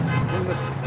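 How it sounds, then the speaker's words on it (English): Car horns honk steadily on a road with traffic noise, sustained and fairly loud, while a voice talks over them. "Horns are honking."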